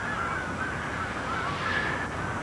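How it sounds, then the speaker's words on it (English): A flock of geese honking as they fly south, a steady chorus of calls over constant background noise, fairly distant and without talk. "Look at all the geese. They're all flying south just as fast as they can."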